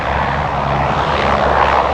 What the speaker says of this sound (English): Let's go for the exec jet.